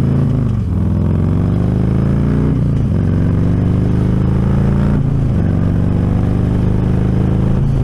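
Motorcycle pulling away from a stoplight and accelerating through several gear changes, engine pitch climbing and dropping with each shift, loud and close with steady wind noise throughout.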